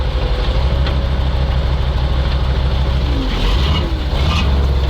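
A KrAZ truck's heavy diesel engine idles steadily with a deep, continuous rumble, close by, with some faint clanks and background noise over it.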